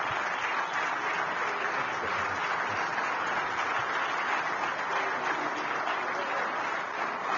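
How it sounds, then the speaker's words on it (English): A conference audience at a Nigerian governance and democracy forum applauds a departing governor, a continuous, even rush of many hands clapping at moderate loudness, with no pause or change throughout. "please give him a round of applause."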